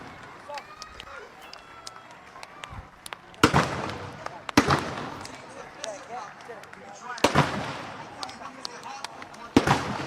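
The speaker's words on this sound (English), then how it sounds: "Fireworks going out in Havelock Park." Fireworks go off at a schools rugby league match in Havelock Park, with several sharp, loud bangs and crackles at scattered intervals over crowd noise and a commentator talking throughout.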